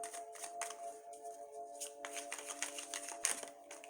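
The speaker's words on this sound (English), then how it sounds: "so we're cutting the cards" Tarot cards shuffled and cut by hand, a series of soft riffling and flicking bursts with small taps, close and quiet, with a faint steady hum behind and no speech.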